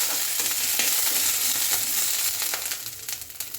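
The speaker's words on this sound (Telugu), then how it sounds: "ఆయిల్లోనే పచ్చిమిర్చి వేసుకుందామండి." Green chilies frying in hot oil, a loud, dense, close sizzle with stirring that eases slightly toward the end, no talking.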